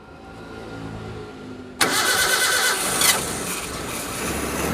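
A rebuilt Suzuki Zebra Espass 1.3 engine cranks briefly and catches, jumping abruptly from a quiet hum into a loud, steady running roar with a short rev surge a second later, close by and free of talk.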